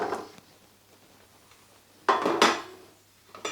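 Carrots tumble into a pot of warming olive oil while making yellow split pea soup, a quiet start followed by a brief clattering rustle and a soft knock at the end.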